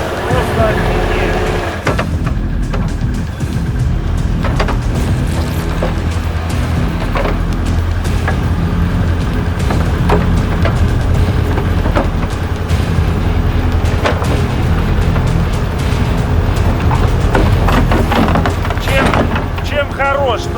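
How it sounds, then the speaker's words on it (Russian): A nine-tonne tractor churning in deep snow off-road, working back and forth in a continuous, loud, rough engine roar with wind buffeting, while people talk over it. "Чем хорош трактор, да, вот укапывается."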